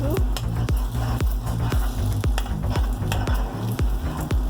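An egg frying in a pan for a fluffy egg and rice dish, with steady sizzling broken by a regular series of sharp clicks and taps from a utensil stirring and scraping, close and clear with no talk.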